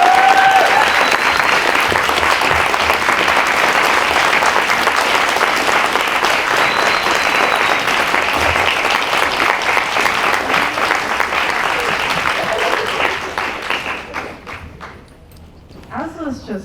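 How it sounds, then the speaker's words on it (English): Audience applause at the close of a lecture event with Dr. Alexis Pauline Gumbs: dense, steady clapping fills the room for about thirteen seconds, then thins and fades as a voice begins speaking. "Let's have another round of applause."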